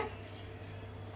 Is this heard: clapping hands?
no